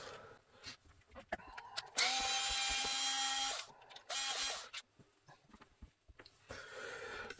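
A power driver whirs in two bursts, one long and one short, backing out screws from the plastic cover of a Traxxas X-Maxx, with small clicks and handling noises around them, close and clear.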